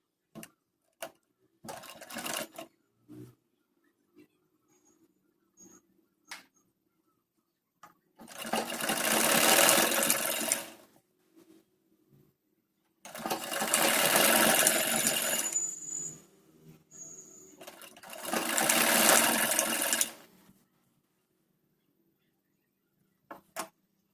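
A sewing machine stitches pleats into a kurti in three sustained runs of several seconds each, separated by quiet pauses with small handling clicks and taps; close and fairly loud, with no talking.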